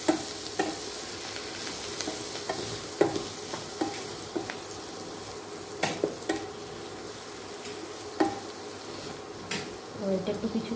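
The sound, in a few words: vegetables stirred and frying in a pan with salt and turmeric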